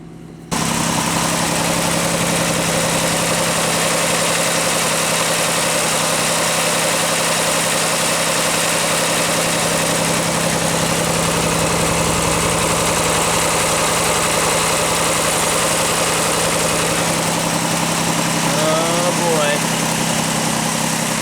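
A Pontiac Aztek engine idles steadily, a constant low droning hum with a strong low tone running unbroken and close throughout, with a faint brief chirp near the end.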